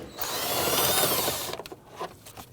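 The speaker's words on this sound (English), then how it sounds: "we're going to go ahead and remove the 3 10mm bolts securing the air filter box" A power driver whirs loudly for about a second and a half while backing out 10mm bolts from the air filter box of a 2011–2015 Kia Sorento, followed by a few quick clicks and rattles as it stops.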